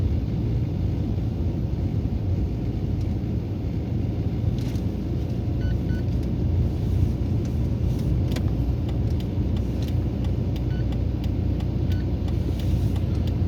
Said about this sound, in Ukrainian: перейшли з третьої на другу і другою легенько під горку котимося